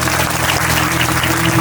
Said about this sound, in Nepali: हाम्रो किरण भाइलाई ताली बजाउनु